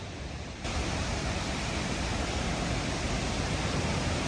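Cane Creek Falls at Fall Creek Falls State Park roars with heavy flow after three days of rain, a dense, steady rushing of water that swells louder after a moment and holds unbroken.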